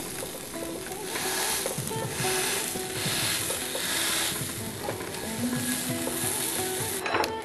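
Marinated tofu kabobs browning in a hot pan, a continuous loud sizzle with occasional scraping and clicking of a utensil, steady throughout with no speech.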